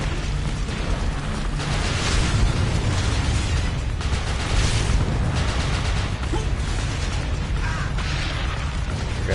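Grenade blasts in the video game Earth Defense Force: Iron Rain, a loud continuous roar of overlapping explosions and bursting debris that barely lets up across the whole stretch.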